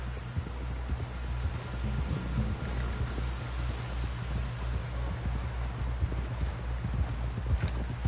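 Steady rhythmic hoofbeats of a galloping horse in the video game Red Dead Redemption 2 pound beneath a low constant rumble, continuous and moderately loud throughout.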